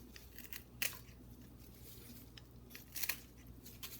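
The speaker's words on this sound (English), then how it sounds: "I just like to use the scissors." Scissors snip open tea leaves in a few quick, crisp cuts, faint and close with short crunchy bursts and quiet pauses between.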